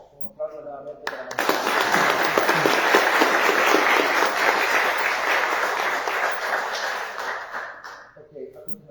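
An audience at a primatology talk in Honduras claps loudly, a dense burst of applause lasting several seconds before fading, with brief speech just before and after.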